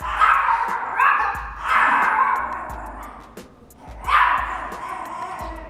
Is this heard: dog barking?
yes